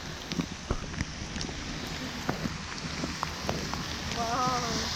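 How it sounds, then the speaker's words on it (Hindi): Steady rain patters on surfaces at a resort beside the Mumbai–Goa highway, with scattered drips and soft thuds, a continuous wash of sound with no voices. "बारिश आ गई।"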